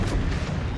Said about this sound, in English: these secondaries are just glorious on the Bismarck, they sound fantastic